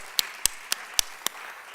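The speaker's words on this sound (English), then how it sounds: "let's give them a round of applause while they're going off stage" A small audience gives a thin, sparse round of applause as performers leave the stage: five sharp, evenly spaced handclaps, faint and slow, over a quiet room.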